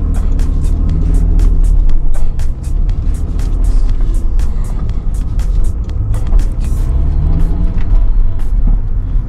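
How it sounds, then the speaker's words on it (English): Exhaust of an Acura NSX-T on the road, a loud, continuous engine drone with strong low rumble and rising and falling pitch as it accelerates, accompanied by a rapid series of clicks or ticks. "the incredible exhaust sound, which you will hear here as well"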